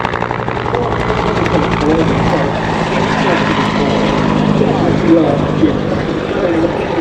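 A Bell UH-1 Huey helicopter flies a display at an air show, its steady rotor and engine roar filling the scene at close range and loud throughout, with an announcer's voice running underneath.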